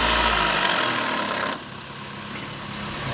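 A 2020 Honda Odyssey engine runs just after an oil change, a loud steady mechanical hum and rattle that drops noticeably in level about halfway through, then holds at a quieter idle with no talk over it.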